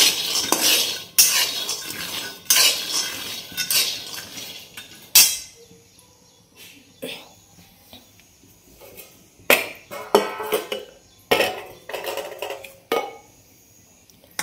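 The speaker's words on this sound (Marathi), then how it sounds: "आता शेंगदाणे भाजून घेते।" Peanuts dry-roasted in a pan, stirred with a metal spoon that scrapes and clinks against the pan in irregular bursts with quieter gaps between, close by and with no speech.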